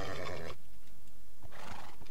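A Minecraft horse gives two harmonic whinnies, one at the start and another near the end, with a quiet gap between them and no talking.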